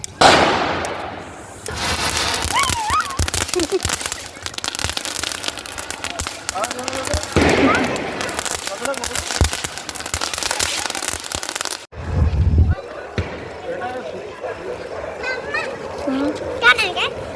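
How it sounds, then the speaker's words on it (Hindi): Firecrackers set off by children during Govardhan Puja celebrations, with crackling bursts and sharp pops scattered over about seventeen seconds, under steady talk and children's voices nearby. "पटाखे छोड़ने थे, तो फिर नीचे लेके आए।"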